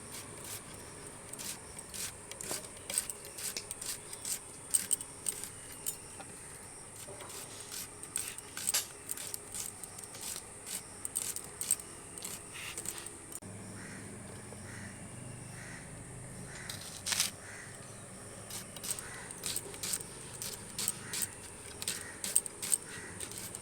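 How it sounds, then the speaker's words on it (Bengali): A kitchen knife chops onions into fine pieces for biryani, a quick string of sharp taps on a board that repeats steadily and stays close and fairly faint throughout. "পেঁয়াজগুলো কুচি করে নেব আর আলুগুলোকে কেটে নেব"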